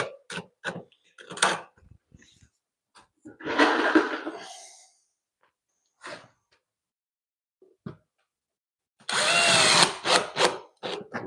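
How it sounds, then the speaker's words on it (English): A power drill drives screws into wall board during waterproofing renovation work, heard as two main bursts of close, loud whirring plus several short trigger pulses, with quiet gaps in between. "So I'll put a few screws"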